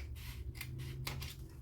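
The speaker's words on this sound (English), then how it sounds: "So I'm just doing this with scissors." Scissors cutting through paper for a craft journal, a few brief crisp snips in an otherwise steady low hum, faint and close.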